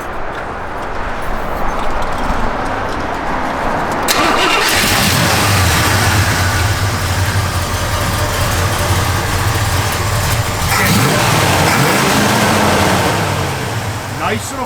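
A 1972 Chevrolet Chevelle engine with a cam idles, then cranks and fires up loudly into a rough, rumbling idle with a brief rev, heard close with a voice talking over it.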